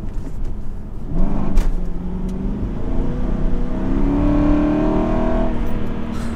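An Aston Martin from the United States, rear-wheel drive, accelerates hard, its engine note rising steadily in pitch and growing louder over several seconds, loud and close with no talk.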